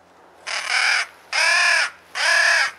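Three long, loud crow caws come one after another with short pauses, close and clear against a quiet background, in a crow-hunting setting where a Faulk's crow call is used.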